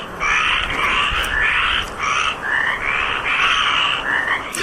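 A dense chorus of frogs croaks loudly and continuously nearby, its pulsing calls overlapping in steady waves with no voices.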